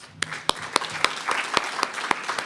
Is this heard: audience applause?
yes